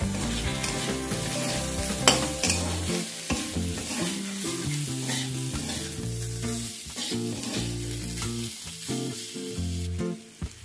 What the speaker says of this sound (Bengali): এবার এগুলো প্রায় আরো 2 থেকে 3 মিনিট সময় নিয়ে ভালোভাবে একসাথে রান্না করে নেব।